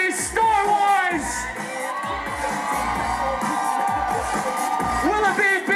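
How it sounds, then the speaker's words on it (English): A crowd at a Halloween costume contest in Orlando cheers and whoops loudly and steadily, with children's shrill shouts rising above the roar throughout. "Cheer for only the ones you want to win."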